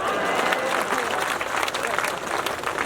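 Audience members clap steadily at a Hindi comic poetry event in Shivrinarayan while someone speaks over the applause, which stays fairly loud and even throughout.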